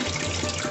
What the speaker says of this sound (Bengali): চালটা ভিজিয়ে রেখে দিয়েছিলাম, চালটাকে ধুয়ে